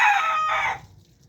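A single crow from a two-year-old White Claret rooster rings out loud and close, a drawn-out call that cuts off abruptly into quiet.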